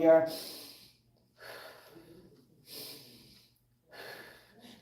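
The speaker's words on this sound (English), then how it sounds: "when you're jumping, you want to breathe in your nose and out your mouth." Deep breaths drawn in through the nose and pushed out through the mouth, as during rope jumping, come in about four close, distinct airy bursts with short silences between them.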